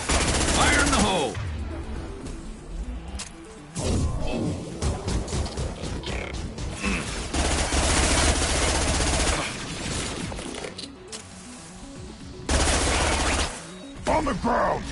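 Rapid bursts of automatic gunfire in the Mass Effect 2 video game, loud and close, in several sustained volleys broken by short pauses, with shouted combat voices mixed in.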